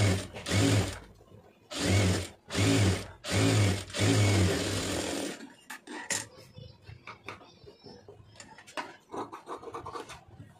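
A sewing machine stitches the waist hem of a net blouse in several short, loud bursts of rapid mechanical whirring, followed by scattered clicks and handling scratches close by.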